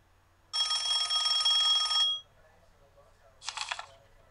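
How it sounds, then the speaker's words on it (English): A cartoonish electronic telephone ring from the JumpStart 2nd Grade video game: one sustained buzzing trill lasting about a second and a half, then a shorter burst after a pause, clear and close. "Suddenly, the phone rang."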